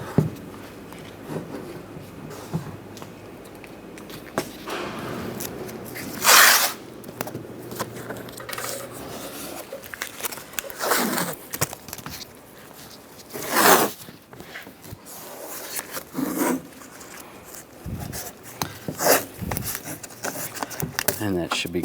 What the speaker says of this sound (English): Now we're going to tape the window up. Just use some masking tape.